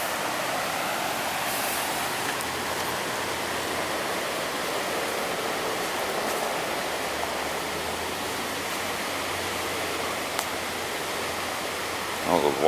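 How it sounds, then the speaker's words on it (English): Floodwater from the 2013 flooding in Arvada, Colorado runs down a sidewalk, making a steady, broadband rushing wash that continues without a break, with a few faint clicks and a brief bump at the end. "that's a sidewalk over there with the water running down it"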